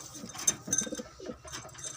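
Pigeons coo softly at close range, in a few low murmuring coos with faint rustling and background noise between them.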